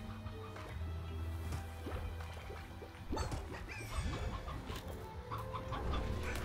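Stony hens in a video game cluck and squawk in a busy run of bird calls, with sharp scattered clucks over a steady background of game ambience and music.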